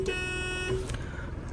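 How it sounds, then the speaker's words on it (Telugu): A used diesel car with 95,310 km on it sounds one short, loud, steady horn honk lasting under a second, followed by a low engine rumble. "ఇది హారన్"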